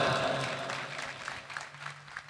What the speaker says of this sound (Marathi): त्या दोघांसाठी जोरात टाळ्या वाजवा.